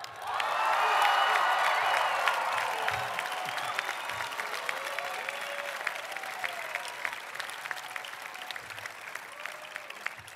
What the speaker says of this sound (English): now I command you to engage in a thunderous cheer